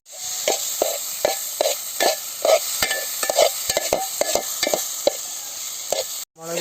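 Spice powders being stirred in a pan for egg gravy: a steady run of close scraping strokes over a soft sizzle, with a clunk near the end and no voices.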